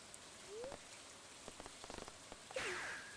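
Soft, steady rain falling in the Stardew Valley farming game, a quiet patter on surfaces with scattered drop ticks and brief chirpy game cues, no talking.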